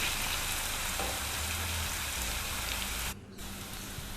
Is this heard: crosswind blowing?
no